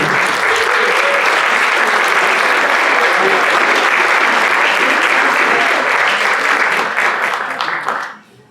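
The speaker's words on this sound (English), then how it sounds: "We can give you a big round of applause as well." At a Rotary club meeting, the room applauds new members with loud, full, sustained clapping that stays strong for several seconds and then quickly dies away.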